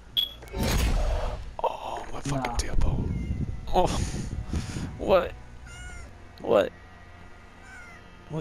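A cat meows repeatedly in the video game Call of Duty Modern Warfare, several distinct cries spaced out over several seconds amid overlapping chatter and game noise.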